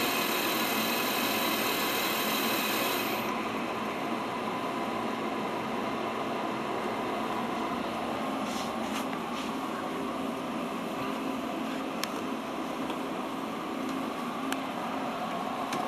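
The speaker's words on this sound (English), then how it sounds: "We're now going to turn the spindle off." A Multicam MT22 CNC router spindle shutting off, its steady high whine dropping abruptly early on and leaving a continuous loud broadband hum with occasional faint clicks.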